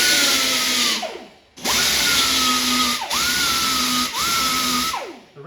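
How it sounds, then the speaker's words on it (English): A small angle grinder grinds over screw and staple spots on a wooden Whirlwind pinball cabinet, loud and close, with four sustained bursts whose pitch sags under load and recovers between short pauses. "I'm taking this little angle grinder and I'm grinding where all the screws and staples are at"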